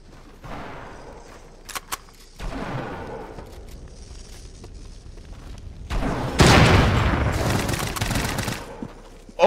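Gunfire in the video game Fortnite: scattered shots early on, then a louder dense volley of rapid fire building near the end, with no talk over it.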